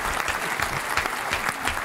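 A live podcast audience applauds and cheers, dense close clapping that fills the whole stretch at a steady, fairly loud level.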